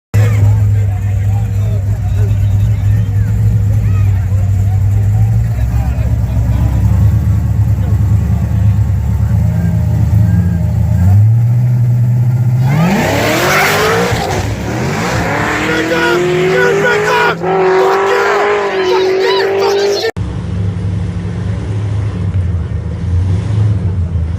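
Race cars at a race event, engines droning steadily and then sweeping upward in pitch as they accelerate off the line, loud and close, over crowd babble.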